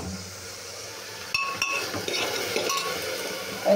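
Mixed vegetables for a fish curry are stirred in a pot, the spoon clinking and scraping against the metal in a few sharp knocks over a faint sizzle.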